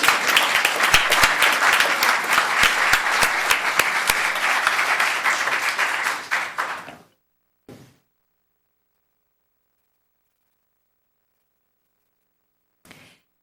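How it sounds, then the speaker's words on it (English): Applause from the audience at a town council meeting, loud steady clapping for about seven seconds that stops abruptly, followed by a short burst of movement and long near-silence. "She deserves another round of applause."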